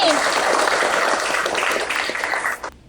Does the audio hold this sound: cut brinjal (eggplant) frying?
no